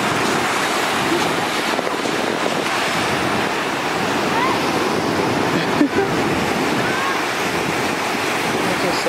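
Waves roll and wash along a beach in a continuous loud roar, with heavy wind buffeting the microphone throughout and faint voices in the background.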